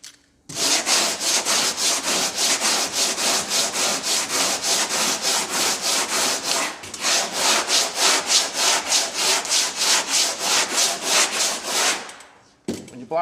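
Rhythmic, loud back-and-forth block sanding strokes with a longboard scrape over a classic Corvette body in steady even passes, pausing briefly midway and stopping near the end.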